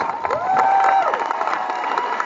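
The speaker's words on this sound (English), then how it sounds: "Can we give our commencement speaker another round of applause?" A crowd at the 2026 Santa Fe High School graduation ceremony claps and cheers for the commencement speaker, with loud sustained applause, whoops and shouting voices filling the hall.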